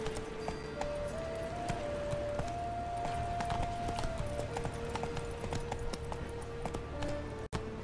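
Hooves of the horse Roach galloping in the video game The Witcher 3, a rapid, steady clip-clop beneath ambient music, fairly quiet, with a sharp click near the end.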